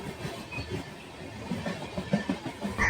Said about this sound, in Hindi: और ये भागलपुर दानापुर इंटरसिटी एक्सप्रेस है जो दानापुर की तरफ जा रही है।